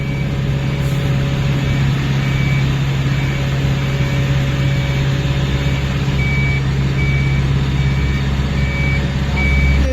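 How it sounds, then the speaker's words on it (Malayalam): A concrete mix truck reversing toward a paver during road work on a highway gives off a regular series of loud, evenly spaced reversing beeps over a constant low engine drone, with no talking. "ഫസ്റ്റ് ലോഡ് തട്ടാൻ വേണ്ടിയിട്ട് നമ്മുടെ വണ്ടി ഇതാ റിവേഴ്സ് വന്നുകൊണ്ടിരിക്കുകയാണ്."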